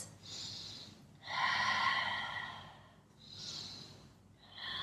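Slow, deep breaths during a standing yoga stretch with one hand reaching to the opposite ankle, each long airy inhale and exhale clearly audible and close, with short pauses between them and no talking.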